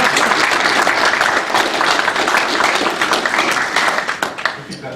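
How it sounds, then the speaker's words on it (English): A crowd applauds at a panel discussion on big data applications, with steady, dense clapping that fills the room and stays loud throughout, then eases off slightly near the end as voices murmur underneath. "Round of applause."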